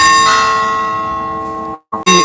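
Church bell in a Portuguese neighborhood striking the hour, a loud, close metallic strike with a long ringing decay, then a brief cut and the start of another strike.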